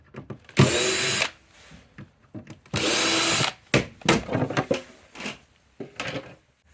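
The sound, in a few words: power drill removing screws from hot tub spa pack door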